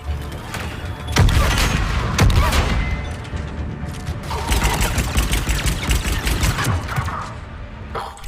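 NG cannon turret firing in Mass Effect 3 on Tuchanka, heavy booming blasts and mechanical clanks in a dense battle mix, with loud bursts around the middle and later sections and a voice talking briefly.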